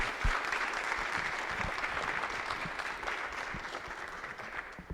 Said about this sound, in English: So please, everyone, a warm round of applause to Luca